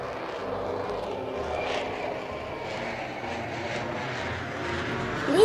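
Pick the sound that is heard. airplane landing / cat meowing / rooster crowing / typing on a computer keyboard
airplane landing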